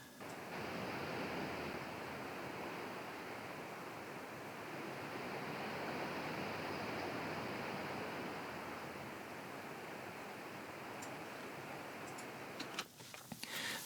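Steady river water ambience, mixed for spatial audio, forms a broad continuous rushing wash that holds an even level throughout, with a few faint clicks near the end.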